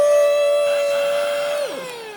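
A steady high motor whine from a Temu vacuum cleaner drones loudly, then drops sharply in pitch as it winds down near the end.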